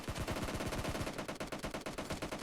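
Rapid automatic gunfire from a 1v1 match in PUBG Mobile, close and loud, with shots in quick succession that run almost without a break.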